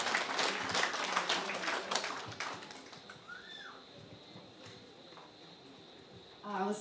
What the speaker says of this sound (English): Give her a round of applause, guys, as she comes up to the show.